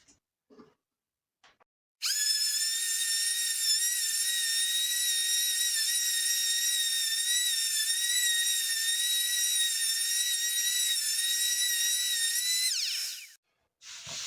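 A small power sander working over dried filler on joinery woodwork with 100 to 120 grit paper, a steady high-pitched whine running unbroken for about eleven seconds after a few faint knocks, then cutting off.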